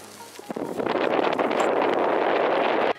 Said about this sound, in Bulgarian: Става доста ветровито.